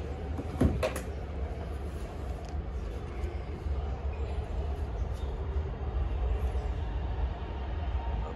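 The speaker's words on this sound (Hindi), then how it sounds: "इसमें आपको कोई चाबी से अनलॉक या लॉक करने की ज़रूरत नहीं है, आपने ऐसे रखना हाथ तो ये गाड़ी ओपन हो गई।" A 2017 Honda Civic with keyless entry unlocks and its door opens: one sharp, close latch click is followed by quiet, rumbling outdoor background.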